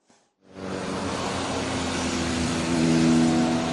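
Motorcycles revving at a motorcycle festival in Diyarbakır, a dense, sustained roar from several engines that builds in loudness and holds, with no talking.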